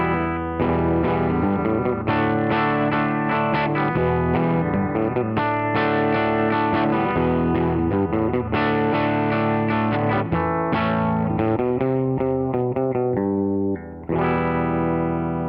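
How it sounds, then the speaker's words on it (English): An Epiphone electric guitar on its bridge humbucker, run through a Line 6 Helix with a Fender amp model and spring reverb, playing clean, ringing chords and melodic lines continuously and loud, with reverb tails. "this is how it sounds on the bridge pickup, full humbucker, no splits, just going through the Line 6 Helix with a Fender amp simulation"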